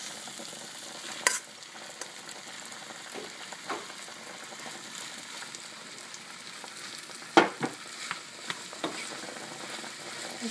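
Ground beef frying in a pan with tomatoes and onions, a steady close sizzle with scattered stirring scrapes and a few sharp clinks, no voices.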